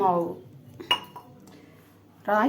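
A ladle mixes ragi flour batter for sweet pancakes in a metal vessel, giving a few sharp clinks and scrapes between stretches of nearby talking.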